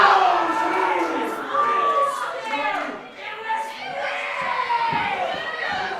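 A wrestling arena crowd reacts in disbelief to a near-fall, a loud, sustained roar of shouting and cheering voices that swells and dips but never stops over several seconds.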